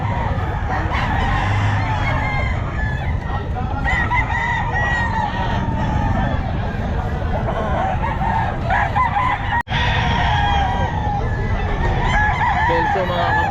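Gilmore bloodline bull stag gamecocks crowing and clucking amid the bustle of a Bocaue pet market, repeated crows overlapping a dense crowd of fowl and background chatter.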